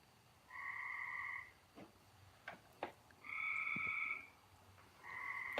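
A frog croaks in drawn-out, buzzing bursts, about three long calls spaced a second or two apart, with a few faint clicks and knocks between them, close and clear against a quiet night background.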